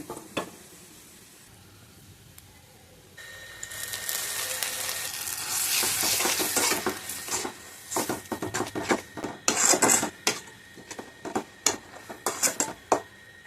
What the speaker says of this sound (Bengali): এখন আমি দুইটার মধ্যে বাগার দিয়ে দিব